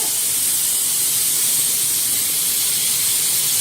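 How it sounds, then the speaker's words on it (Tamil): A loud, continuous hiss of steam escapes under pressure from a pressure cooker whistle, holding steady from start to finish with no voices. "இப்போ குக்கர்ல இது வந்து ஒரு 4 விசில் 5 விசில் எடுத்துக்கோங்க"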